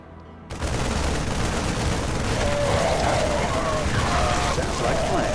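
Continuous battle gunfire in StarCraft II as troops shoot at civilians, a loud, sustained rattle of shots that kicks in abruptly and runs on with a voice speaking over it.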